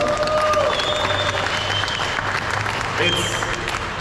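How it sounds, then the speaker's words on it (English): An outdoor crowd at the opening ceremony of the Pacific Air Show in Huntington Beach applauds steadily, with cheers and a few whistles over the clapping and some voices mixed in. "How about a round of applause?"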